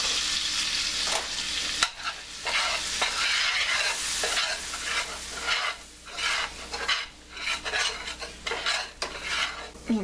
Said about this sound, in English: now it's time to make a roux with our butter and flour